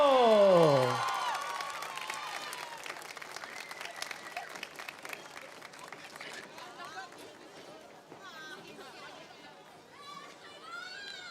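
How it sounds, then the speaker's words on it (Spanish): An outdoor festival audience in Río Gallegos applauds a dance school taking the stage, a loud burst of clapping and cheering that settles into sustained crowd clapping and chatter, with an announcer's voice at the start. "¡Fuerte el aplauso!"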